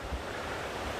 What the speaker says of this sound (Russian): И впереди мы уже слышим шум второго водопада.